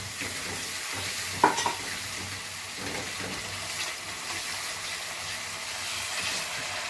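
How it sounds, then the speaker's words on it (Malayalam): Water pours into hot masala in a pan while cooking a spicy, tangy brinjal curry, giving a steady close sizzle and bubbling with a brief splash early on, no voices. "നമ്മൾ ജാർ കഴുകിയതായിട്ടുള്ള ആ വെള്ളം കൂടെ നമുക്ക് ഒഴിച്ചു കൊടുക്കാം."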